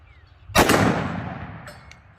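A single loud gunshot from a .40 Super 1911 pistol firing Underwood 200 grain XTP jacketed hollow point rounds, a sharp close crack with a long decaying echo, followed by faint clicks.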